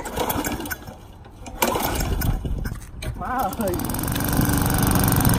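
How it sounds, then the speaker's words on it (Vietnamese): Gasoline lawn mower engine pulled into life and running steadily at a home in the United States, a continuous motor drone building after a few seconds, with people talking over it. "Giật máy cắt cỏ thôi"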